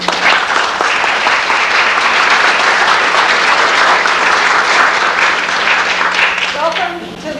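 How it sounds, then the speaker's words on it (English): A theater audience gives a warm round of applause for Dr. Elizabeth Barber, dense and loud clapping sustained for several seconds before tapering off at the end. "Please join me in a warm round of applause for her."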